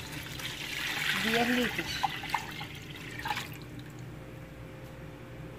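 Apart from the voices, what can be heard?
pouring water onto cut kiwi for homemade yogurt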